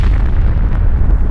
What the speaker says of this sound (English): A bright blue explosion erupts from beneath the old CIT ruins.